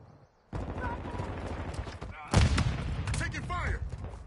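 Call of Duty gunfire on the Shipment map: a sudden onset of rapid, dense automatic shots that continue steadily, with a heavier burst partway through.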